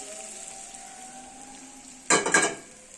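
Tomato pickle dropped into a pan of hot tempering spices for instant tomato chutney bursts into a loud, brief sizzle that quickly settles back toward a soft, steady background hiss.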